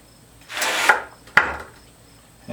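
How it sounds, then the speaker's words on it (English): A brass insert for a 6.5mm Easton Hunter Classic hunting arrow is hammered down on a hard surface: a broad knocking strike, then a sharper second hit and the start of a third, close and loud with no talk. "Hammer it down on a hard surface"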